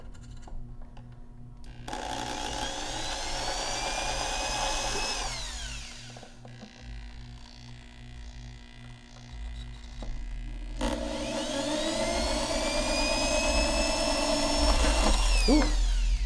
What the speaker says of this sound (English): Just mark it with the drill.